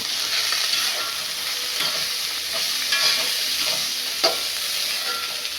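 Beans sautéing in a hot pan, a continuous close sizzle and frying hiss with scraping stir strokes now and then, no talking.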